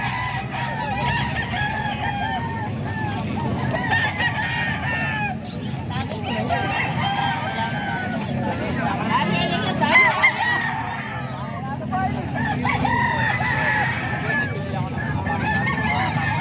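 Chickens and roosters crowing, clucking and calling continuously at a busy poultry market in Calumpit, many birds overlapping loudly and close throughout.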